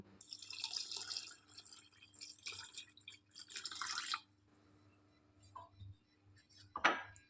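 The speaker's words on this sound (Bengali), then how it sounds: "জল দেবো" Water poured into roasted green mango sherbet, faint bursts of trickling and splashing that come and go, followed by a few soft clinks and a sharper knock near the end, quiet and close.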